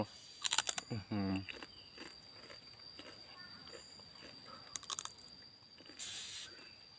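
Crispy fried wontons with a meatball dipping sauce are bitten and chewed right at the mic, giving loud crunchy bursts early on and again near the five-second mark. Softer munching fills the gaps, with a brief voiced hum.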